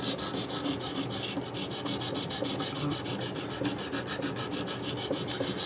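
Steady back-and-forth rasping of a knife edge drawn across a ViperSharp diamond sharpener, a continuous run of even strokes close up with no talking.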